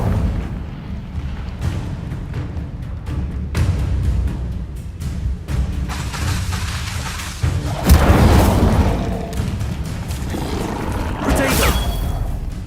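Incendio fire spells cast during combat in Hogwarts Legacy: a rumbling, booming backdrop with repeated sharp bursts and two louder fiery whooshing blasts later on, close and dense with battle noise.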